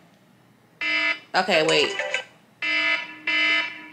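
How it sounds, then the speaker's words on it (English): Loud phone alarm tone sounds in three sustained harmonic bursts, with someone speaking briefly between the first and second bursts. "Where's like the loud alarm sound?"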